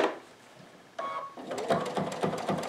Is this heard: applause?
no